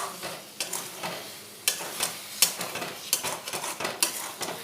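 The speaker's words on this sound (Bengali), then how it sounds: "এবারে আমি ছাতুটা এই মশলার সাথে খুব ভালোভাবে কষিয়ে নেব" Sattu flour fried with spices, sugar and Kashmiri red chilli powder in a pan for a mushroom and potato curry, with a spatula scraping and knocking in irregular bursts over a low sizzle.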